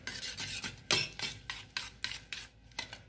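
Egg and onion omelette ingredients being mixed in a bowl with a spoon, making a quick series of close scraping, clinking strokes at a steady beat, each one a short wet rasp against the bowl.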